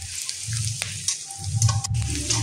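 Chopped onion and green chilli sizzle and fry in mustard oil, a close, steady crackle with bursts of louder spitting and stirring, with no voices.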